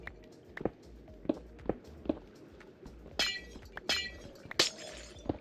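Glass blocks break repeatedly in the Minecraft video game, with a series of sharp shattering clinks at an irregular rhythm over quiet footsteps and light background game sounds.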